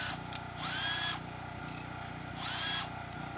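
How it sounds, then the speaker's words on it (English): A power drill pre-drills holes in a board for lag bolts while outdoor stairs are installed on a lake-front home. The motor whines in two sustained bursts of about half a second each, close and loud, with a brief quieter spin between them. "But we'll have to pre-drill them, Gary."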